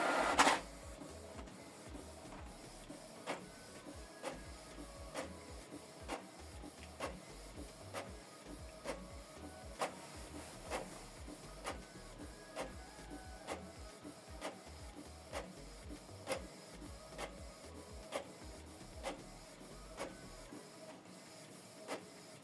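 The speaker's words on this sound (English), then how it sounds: "So it's printing." A Canon Pixma TS5350i printer printing a document, a steady mechanical whir with regular clicks and ticks repeating roughly every second, close and fairly quiet, no voices.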